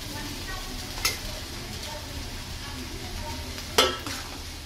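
Boiled potatoes being stirred and fried in a pan, a steady close sizzle with two sharp scraping clacks of the spoon against the pan.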